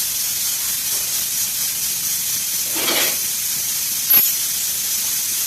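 Ghee heating in a pan before rice goes in to fry, giving a steady, fairly quiet hiss and sizzle throughout, with a brief louder crackle swell near the middle and a sharp short pop toward the end.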